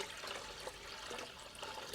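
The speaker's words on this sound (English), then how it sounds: "Throw this cloudy water in here" Cloudy water poured into a bucket during a heater core replacement on a 2002 Mini Cooper S R53, a steady, faint splashing trickle that runs throughout.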